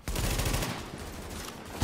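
Rapid, sustained gunfire from The Division, a dense burst of shots running the full length, loud and continuous with a sharp final crack at the end.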